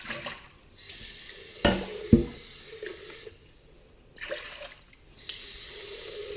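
Tap water runs and splashes in bursts as a dirty blender is rinsed at a kitchen sink, with a couple of sharp knocks and clatters, then pauses and resumes flowing, close and moderately loud.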